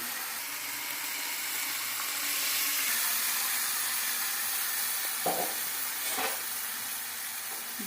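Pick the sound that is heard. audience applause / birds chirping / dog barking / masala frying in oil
masala frying in oil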